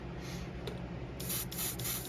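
A steady hiss of Kaleido Colorworks paint from a spray gun in a spray booth, growing brighter and stronger in the second half.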